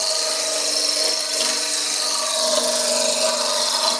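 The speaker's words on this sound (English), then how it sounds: "I'm just gonna turn the lathe speed up a little bit." Wood lathe spinning a spindle while a skew chisel cuts along it, giving a steady, loud, continuous whirring scrape with a bright hiss of shaving wood and no pauses.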